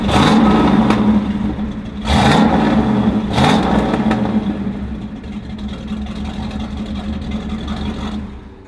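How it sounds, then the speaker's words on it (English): A 1967 Camaro RS/SS V8 engine idles loudly with a rough rumble, then gets a few sharp throttle blips that rise and fall back to idle. "Give us a couple of blips."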